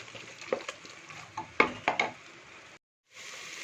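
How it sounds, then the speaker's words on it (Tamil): Carrots and green peas stirred in a pan over a low flame, a soft sizzle broken by several spoon scrapes and clinks against the metal, with a brief silent gap near the end. "ஸ்டவ்வை சிம்மில் வச்சு கொஞ்ச நேரம் கேரட்டையும் பட்டாணியும் சேர்த்து வதக்கலாம்"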